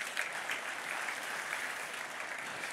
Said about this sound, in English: So everybody give Clint a round of applause here as he comes up on stage